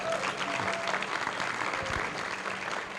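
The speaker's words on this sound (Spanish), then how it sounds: "Vamos a darle un fuerte aplauso." Warm, continuous applause from a church congregation during a Spanish-language service, steady and moderately distant, with faint tonal sounds underneath.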